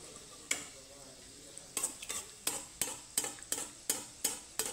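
Gulab jamun sweets made from atta fry in hot oil, a steady sizzle punctuated by about seven sharp scraping clinks of a spoon against the pan, evenly spaced and close.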